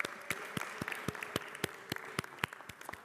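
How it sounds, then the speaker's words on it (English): Scattered clapping from a modest group in a city council chamber, fairly quiet and uneven, with distinct individual claps standing out rather than a dense roar. "let's applaud the fathers in here."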